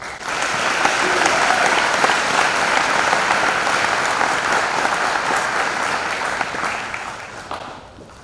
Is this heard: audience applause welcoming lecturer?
yes